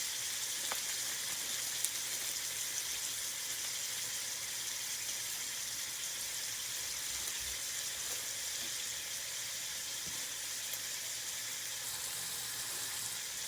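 Sofrito for Puerto Rican arroz con pollo frying in a pan, a constant dense hiss of sizzling oil, steady and unbroken throughout with only faint occasional clinks.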